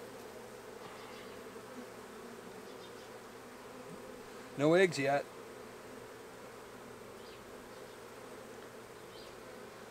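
A swarm of young honey bees gives off a steady, close buzzing hum that runs unbroken throughout, with a person briefly speaking partway through.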